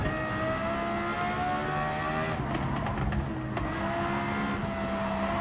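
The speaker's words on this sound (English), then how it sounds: "It's got that kind of artificial buzzy noise that all racing exhaust cars tend to have." Lexus LFA race car in Gran Turismo 7, its engine screaming at high revs with a loud, buzzy, steady racing-exhaust drone that dips briefly as if shifting, then climbs again, with no talk.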